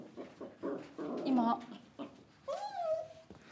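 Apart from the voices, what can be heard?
dogs whimpering in a TV studio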